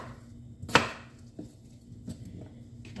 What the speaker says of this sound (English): so we'll cut the onions